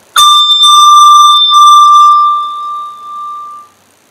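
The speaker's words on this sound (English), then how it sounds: "We hold the handbell so that the rubber mallet is in the back, and when we flick it forward, it hits the bell, and that makes the sound." A handmade handbell flicked forward so its rubber mallet strikes the bell gives one clear bright ring with a slight second touch, then a long sustained tone that fades out over a few seconds, heard alone and close.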